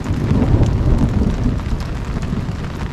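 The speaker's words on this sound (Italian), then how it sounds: "Faccio vedere anche il lago con la pioggia. Prima ha fatto un bel tuono," Steady rain and a low rumbling roll of thunder fill the air beside a lake in the French Alps, a dense continuous wash with wind buffeting the microphone and no voices.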